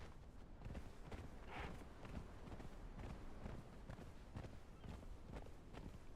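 Horse hooves clip-clop steadily in the video game Conan Exiles: Isle of Siptah, a continuous run of fairly close hoofbeats over busy game ambience, with no talk.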